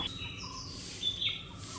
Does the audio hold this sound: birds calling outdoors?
yes